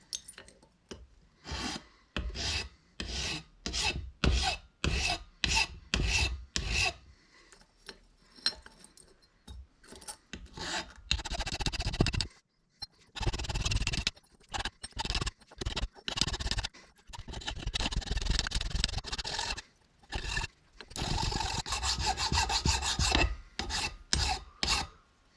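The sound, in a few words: hand file filing burrs off metal bike mount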